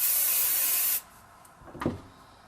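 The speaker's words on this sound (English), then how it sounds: "For the front, just give it a spray." Hairspray misted onto the front of a vintage victory-roll updo: one loud, steady hiss lasting about a second, then stopping abruptly, followed by faint soft handling noises.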